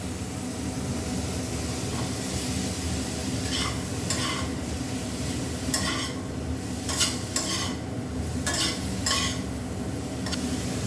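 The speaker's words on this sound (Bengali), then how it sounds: "রসুনটাকে হালকা ভাজা ভাজা করে নিয়েছি। এবার আমি এর মধ্যে দিয়ে দেব ভাপিয়ে নেওয়া ব্রোকলিগুলো।" Steamed broccoli is stir-fried with lightly browned garlic in a pan for a broccoli paneer dish. A constant low sizzle runs throughout, broken by several sharp scraping stirs of the spatula in the middle and later stretches.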